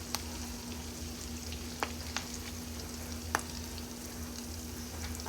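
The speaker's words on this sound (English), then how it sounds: "that's been cooking in that hot grease for about 2 minutes" Tuna patties fry in hot grease in a pan, giving a steady, even sizzle throughout with a few faint pops and crackles, close and alone.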